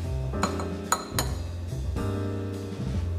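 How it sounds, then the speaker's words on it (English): A small Kruve shot glass clinks against a hard surface as it is set down at an espresso machine, giving a few sharp glassy taps, close and clear, over a low mechanical hum. "My little Kruf shot glass."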